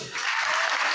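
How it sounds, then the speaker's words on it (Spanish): Audience applause at an early-childhood philosophy education event, a dense wash of many hands clapping that swells in after a brief quieter moment and holds steady and loud. "Un aplauso para las que se quedaron."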